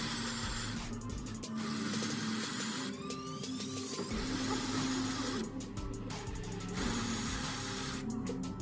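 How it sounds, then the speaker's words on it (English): A power tool loosens the bolts on the fuel filter cap of an Audi Q3 8U 2.0 TDI CFFB, giving repeated close bursts of high whirring with short gaps between each bolt. "First, we start by removing the bolts that hold the fuel filter cap."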